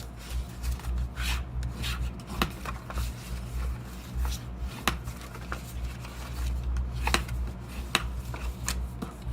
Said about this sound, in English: I'm going to fold and burnish all my score lines.